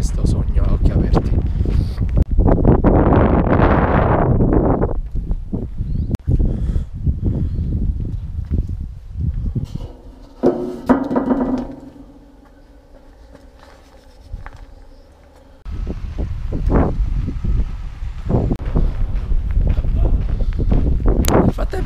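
Wind buffets a microphone on the Camino de Santiago near León, a loud rumbling roar that comes and goes in strong gusts, drops almost away in a brief lull and then surges back.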